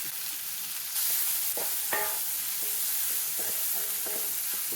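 A large onion sautés in a pan with a little salt while being stirred for masala dosa filling, giving a steady close sizzle with scraping and a few light clinks of the utensil.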